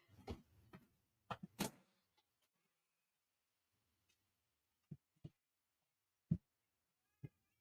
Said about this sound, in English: you can hear my cat talking